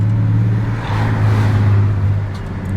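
A Ford AU Falcon accelerates in gear, its engine droning as a loud, steady low hum from inside the cabin, rising slightly over a few seconds.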